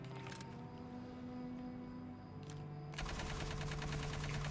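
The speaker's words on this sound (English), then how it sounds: "So that's our rate of fire. And that's our reload." The L36 Halberd gun in the Aliens: Fireteam Elite video game fires and reloads: quiet sharp shots and mechanical clicks, then a sustained burst of rapid automatic fire toward the end, with no talking.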